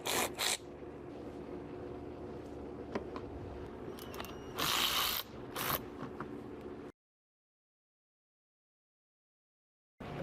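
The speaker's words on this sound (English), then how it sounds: "And we'll use a 10mm to remove the bolts." A ratchet backs out 10mm bolts on the A-pillar of a third-generation RAM 1500. Its quick clicking runs in short bursts with a few louder rattles, then the sound stops and near silence follows.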